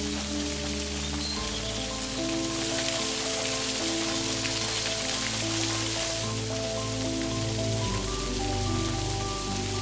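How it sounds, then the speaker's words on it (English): Steady rain pattering down at a cave diving camp, a dense even hiss of drops on surfaces throughout, with low humming tones running underneath, no voices. "it suddenly started raining"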